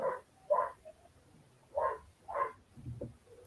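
A dog barking in short separated bursts indoors, four clear barks spread over a few seconds with a softer whine and lower grumble near the end, moderately close.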